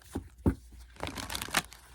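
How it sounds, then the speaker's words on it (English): Personality cards being shuffled by hand, a few quick papery riffles and slaps close by, the cards brushing and snapping together in short bursts. "I'm going to shuffle them first."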